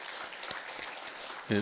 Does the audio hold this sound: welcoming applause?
yes